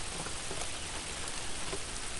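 Steady rain falls outside a shed at the edge of the woods, a dense, even patter on surfaces that holds constant throughout at a moderate distance.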